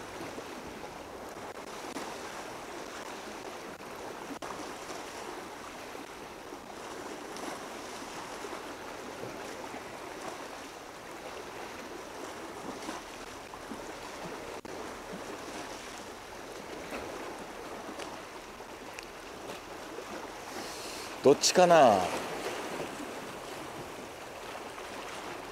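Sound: waves from a passing boat washing ashore

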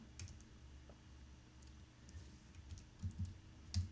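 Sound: pressing keys on a computer keyboard

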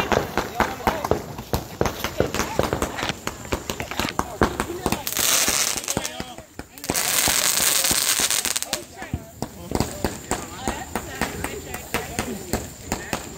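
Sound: Fourth of July fireworks exploding

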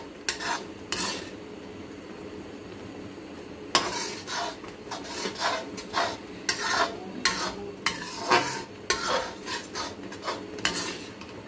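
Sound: stirring raw mango chutney cooking on medium flame

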